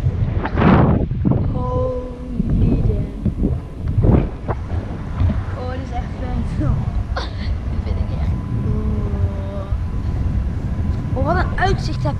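Gusty wind buffets the microphone in low rumbling bursts while parasailing, with faint voices and outdoor sounds underneath.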